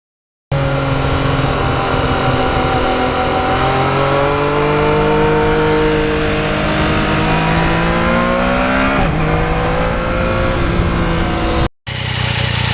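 A 2020 Yamaha MT-09 motorcycle with quick shifter accelerates on a back road, engine pitch climbing steadily through the gears with a sharp upshift break near the end, loud and close with wind rush.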